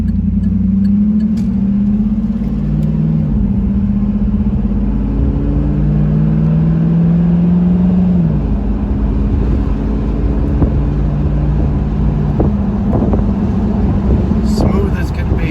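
A 2002 Pontiac Trans Am convertible driving, its engine droning loudly with rising and falling pitch as it accelerates through gears, wind rushing across the open top, with a voice speaking over it.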